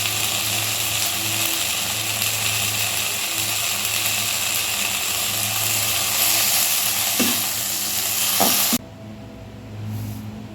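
A mixer grinder grinding sesame seeds and peanuts whirs in a loud, steady grinding roar, then cuts off abruptly near the end, leaving a quieter hum.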